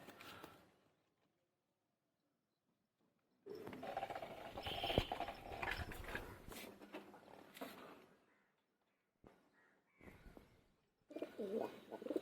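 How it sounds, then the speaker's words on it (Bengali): Soft, low pigeon coos come in bursts separated by quiet gaps, close by, with some rustling and fluttering among the birds. "দেখুন দুর্দান্ত পায়রা, কোয়ালিটি পায়রা।"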